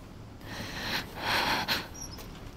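Heavy, rasping breaths come from a creature in Resident Evil 7 Biohazard's Daughters DLC, two or three loud wheezing swells close up, with no talking over them.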